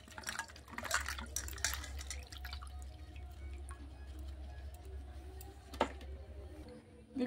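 Datura fruits are washed by hand in water, giving quiet, scattered drips and small splashes with a louder slosh near the end.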